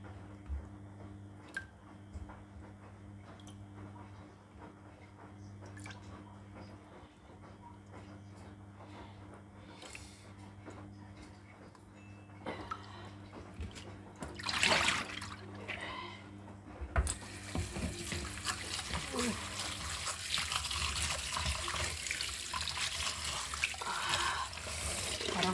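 Tap water running over food in a sink while washing it, a steady close splashing hiss that swells louder toward the end, with faint background hum and a few soft knocks.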